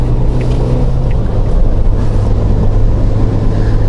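Steady low engine rumble and road drone from inside a new Suzuki Jimny being driven while still running in, loud and continuous with a faint wind hiss and no talking.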